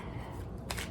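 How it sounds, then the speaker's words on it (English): Tarot cards being shuffled by hand during a reading, a brief soft riffling burst near the end of a short, faint stretch over low room noise. "I can't talk and shuffle at the same time all of a sudden."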